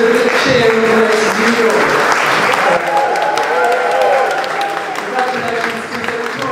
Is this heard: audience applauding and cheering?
yes